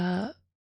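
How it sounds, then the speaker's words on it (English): A single drawn-out vocal yawn, voiced and falling in pitch before trailing off into silence. "That was a yawn."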